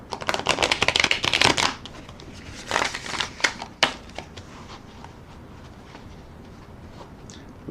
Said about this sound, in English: shuffle and rifle on the deck.